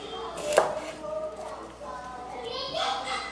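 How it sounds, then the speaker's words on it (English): A knife slices through an onion, halving it for a classic mirepoix, with one sharp cut standing out against faint background voices and light kitchen noise. "Cut the onion in half."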